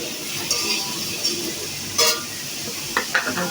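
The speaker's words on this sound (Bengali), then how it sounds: "আলুটা একটু ভেজে নিচ্ছি" Potatoes fry in oil in a pan for a Bengali beef curry, a soft continuous sizzle broken by a few sharp clinks of a utensil stirring against the pan, with no talking.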